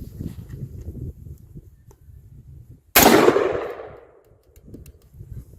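A single loud gunshot from an M4A1-style AR-15 rifle fitted with a three-position Arizona regulator, a sharp crack followed by a decaying tail, with low background murmur before and after.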